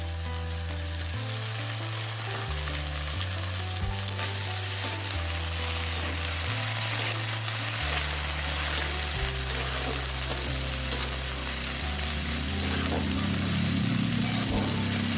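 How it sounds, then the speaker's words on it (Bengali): Chopped onions with ginger paste frying in a pan for a loitta (Bombay duck) fish curry, a steady close sizzle throughout with light stirring noises and no talk. "পেঁয়াজ কুচানোগুলো ভালো করে ভাজা হয়ে গেলে আমি এতে আদা বাটা দিয়ে দিই"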